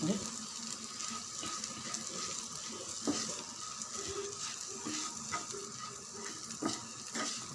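Okra (vendakkai) frying in a pan with garlic, a soft continuous sizzle with occasional scrapes and clicks of stirring, fairly quiet and close, with no voice over it.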